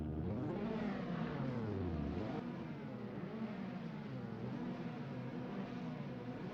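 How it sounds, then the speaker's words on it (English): Multiple historic racing car engines rev hard together on the starting grid at Cadwell Park, revs bouncing off the limiters, a dense, sustained roar with pitches rising and falling as throttles are blipped, steady and loud throughout. "the revs are pretty much bouncing off the red limiters"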